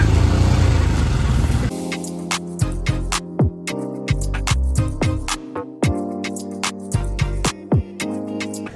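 On an off-road trail near Hunder, Turtuk and Pangong Lake, a motorcycle rides through water, its engine drone under a run of sharp splashing bursts and clatters, loud and close, with no talking.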